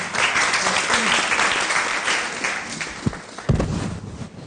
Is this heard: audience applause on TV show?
yes